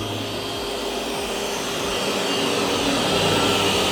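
Roborock S8 MaxV Ultra robot vacuum cleaning a carpet gives a loud, continuous high whine with a low motor hum beneath it, rising slightly and holding steady, with no speech.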